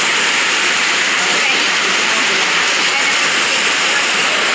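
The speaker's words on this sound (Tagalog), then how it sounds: "naririnig nyo po yung ulan is sobrang lakas" Heavy rain pours down as a loud, dense, constant hiss that fills the scene without letup, a steady wash of noise with no distinct drops or voices standing out.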